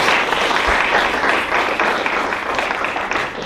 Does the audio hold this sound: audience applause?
yes